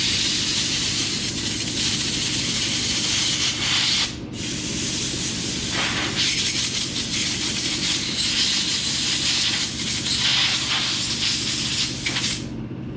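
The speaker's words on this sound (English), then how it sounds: "And then we take a little bit of compressed air." Compressed air blasts through a powder coating gun to clear out leftover powder, a loud, close, continuous hiss broken by two brief pauses.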